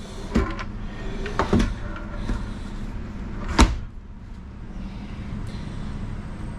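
Hardwood cabinet drawers in the kitchen of a 2014 Thor A.C.E. 27.1 small Class A motorhome slide and knock shut, several sharp wooden clacks and thumps over a steady low background hum.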